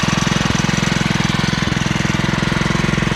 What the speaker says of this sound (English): Yeah, I need to give the motor a little bit more acceleration.